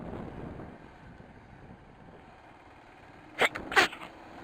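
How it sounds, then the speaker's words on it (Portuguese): A person sneezes twice in quick succession near the end, two sharp close bursts after a stretch of quiet breathy room noise. "Tá me dando vontade de espirrar e eu não consigo."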